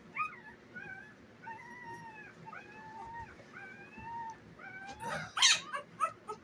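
Five-day-old newborn puppies whimper and give thin, rising howls in a steady series of near cries, then a louder burst of yelps near the end.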